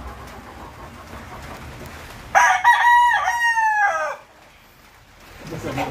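A Sweater Gilmore gamefowl rooster crows once, loud and close, in a single drawn-out call lasting about two seconds, with faint rain-like background noise before and after.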